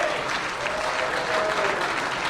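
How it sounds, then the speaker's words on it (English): Dense sustained applause from a crowd at a college hall of fame ceremony, an even roar of many hands clapping throughout. "One more round of applause"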